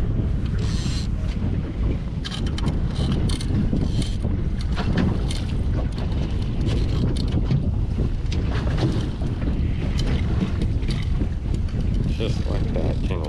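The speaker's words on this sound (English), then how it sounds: "The wind's blowing." Strong wind buffets the microphone on a boat on the Bonneville Pool of the Columbia River during spring salmon fishing, a loud continuous rumbling roar with water slapping against the hull and faint voices underneath.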